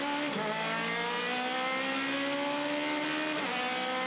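Aussie Racing Cars at Bathurst in 2015, engines screaming loud and steady at high revs with a pitch shift near the end as the field charges from the start toward Hell Corner.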